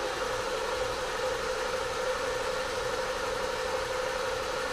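A 2014 Lincoln MKZ 3.7L V6 with a cylinder-four misfire cranks in fuel-cut flood mode, giving a steady, continuous mechanical churn with a droning tone, close and unbroken, with no voices.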